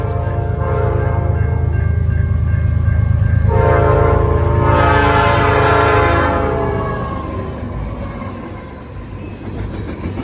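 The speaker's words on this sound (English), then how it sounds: "all the engineers either give us a horn salute or a horn show" A passing train sounds a long, loud horn that swells and holds for several seconds over the rumble of rail cars rolling by close up, then fades as the train continues.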